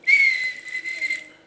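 A human voice imitates a traffic officer's whistle: one sustained, shrill whistle tone with a slight wavering lasting over a second, close and fairly loud, with no speech.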